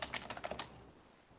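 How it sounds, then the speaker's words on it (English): Quick, light clicks of typing on a computer keyboard come in a short burst of about a dozen keystrokes, faint and close, then stop. "I hear a lot of typing."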